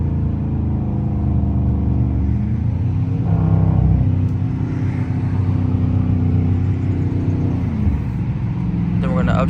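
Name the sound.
car engine downshifting with paddle shifters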